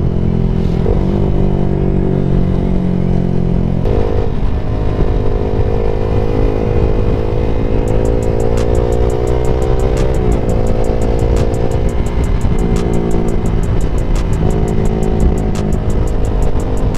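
Loud, steady engine drone of a Suzuki Gixxer SF 250 motorcycle with shifting pitch as the bike rides along, a rapid ticking rattle joining partway through.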